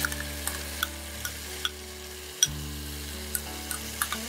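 Chicken frying in a pan with a paste just added gives a faint, low sizzle under a steady hum, with scattered light ticks and one sharp clink of a utensil, and no one speaks.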